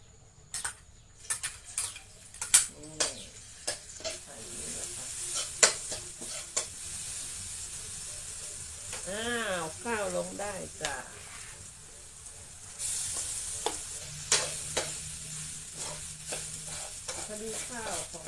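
Fried rice with Chinese sausage being stir-fried in a pan, with repeated sharp clacks of a spatula against the metal over a running sizzle, and people talking intermittently between the strokes.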